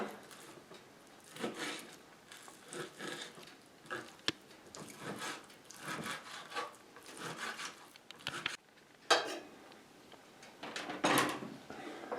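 Irregular knocking and scraping of a knife chopping meat into cubes on a board, close up, with uneven bursts and brief pauses.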